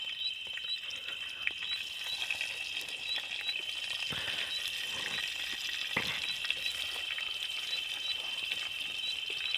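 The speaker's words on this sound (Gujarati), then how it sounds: "ઓ મિત્રો હવે નાખે ડુંગળી, પ્યાજ," Onion pieces frying in hot oil, with a steady continuous sizzle throughout and a few brief clinks and stirring noises on top, close and fairly quiet, with no talking.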